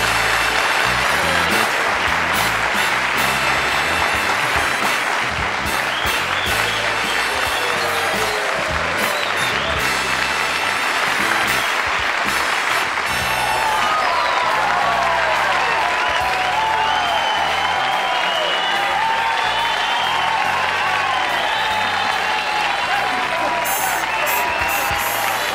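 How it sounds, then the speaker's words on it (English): A television studio audience on The Johnny Carson Show claps steadily, with scattered cheers rising from the crowd and music playing along beneath the sustained applause. "I'm humbled by that applause"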